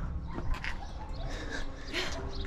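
A very small dog makes soft whimpers and little yips in a few brief bursts over background noise, fairly close and not loud.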